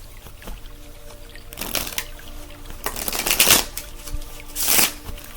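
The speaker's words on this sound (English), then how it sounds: "I feel like shuffling it like this." Tarot cards are shuffled in several quick riffling bursts, close and crisp, with soft pauses between them and no speech.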